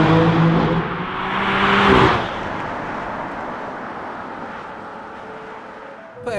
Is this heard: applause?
no